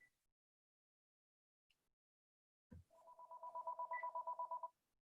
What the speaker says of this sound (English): I have a phone ringing here.